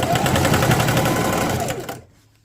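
A sewing machine stitches around the edges of a fabric shopping bag handle, running in a loud, rapid, steady rhythm close up, then stopping abruptly near the end.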